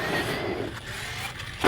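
A Team Magic E6 J-Star RC car running stock on a 4S battery drives and turns nearby, a buzzing electric motor whine that eases off, then a sharp clatter at the end, no voices.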